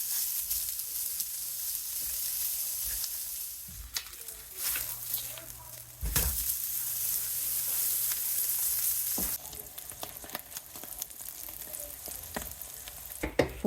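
Cheese frying in a hot skillet over medium heat, a strong continuous sizzle and crackle up close that swells and shifts as the pan is handled, with no talk.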